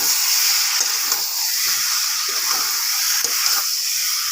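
Onion and ginger paste fry in oil over high-to-medium heat for a jackfruit curry, a steady loud hiss and sizzle with soft stirring scrapes breaking through now and then.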